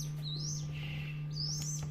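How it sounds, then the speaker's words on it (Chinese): Newly hatched myna chicks give two thin, rising chirps close by, each a quick upward sweep, over a steady low electrical hum from an incubator warming box. "孵化器这里啊又出了3只小八哥"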